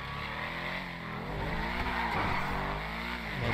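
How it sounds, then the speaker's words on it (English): Audi supercar in GTA 5 Online revving loud and steady, a continuous engine roar with shifting pitch and a tire-squeal edge throughout, alone with no talk. "Let's start with the Audi. You will hear the insane sound."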